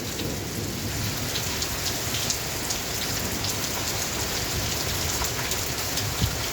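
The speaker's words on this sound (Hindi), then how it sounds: "बारिश बहुत ज़्यादा है।" Heavy rain pours steadily on a rural village farm, a dense unbroken hiss of drops on surfaces that stays loud and even throughout, with no voices.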